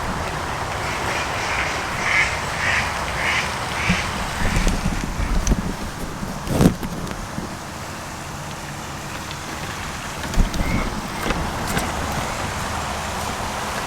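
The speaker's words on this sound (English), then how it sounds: "Ducks." Ducks quacking on a golf course, a few rhythmic quacks early on amid steady outdoor wind and ambient noise, fairly distant, with a couple of louder thumps later.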